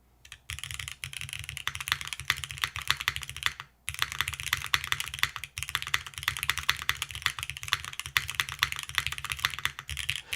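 Steady, fast typing on an Aepex60 mechanical keyboard, close up, with a deep, thocky sound to each keystroke and a short pause partway through.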